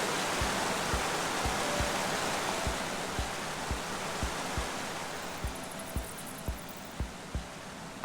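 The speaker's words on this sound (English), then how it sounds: "I first met Reuben near a waterfall like this." A waterfall in the Minecraft Story Mode video game roars as a loud, steady wash of broadband noise. Soft footstep-like thumps tick along at regular intervals underneath.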